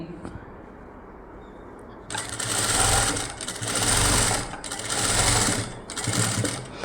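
A sewing machine stitches fabric piping in four loud, evenly paced bursts of whirring needle action that start after a quieter background hum.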